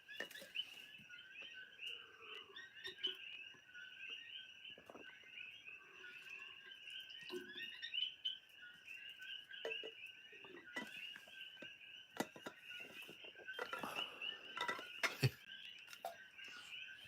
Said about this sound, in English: before the coqui frogs start coming out because they start getting loud